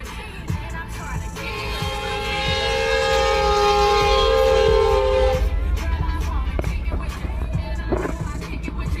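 A train rumbles past nearby, a long steady horn-like tone swelling and holding for several seconds before cutting off, leaving clattering rail noise.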